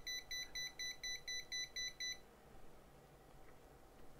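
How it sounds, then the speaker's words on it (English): A cheap PC fan controller's alarm sounding when the fan is stopped, nine quick high-pitched beeps in a regular rhythm for about two seconds, then quiet. "if I stop the fan, it immediately starts beeping and the LED flashes"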